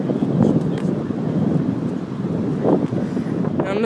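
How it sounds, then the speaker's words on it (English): Strong gusty wind at a beach buffets the microphone in a loud, continuous low rumble, surging and easing with occasional sharper gusts. "We're at the beach! And it's very windy."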